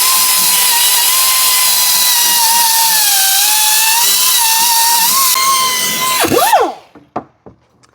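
A power tool fitted with a cleaning pad whines steadily at high pitch while stripping old gasket material from engine surfaces on a 2012 VW Tiguan 2.0L TSI. It spins down near the end, followed by a few short knocks.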